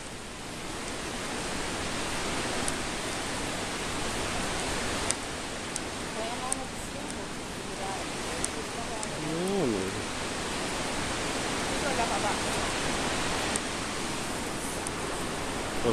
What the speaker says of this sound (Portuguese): Em torno de 80 metros de cachoeira de queda de água livre.